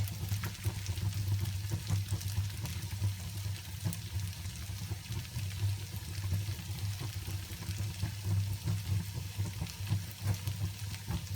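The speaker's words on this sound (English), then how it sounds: "Stir it continuously for a few minutes" Potatoes fry in a pan with a steady, close sizzle and a low hum underneath while they are stirred, and light scraping ticks come through now and then. It goes on evenly throughout without speech.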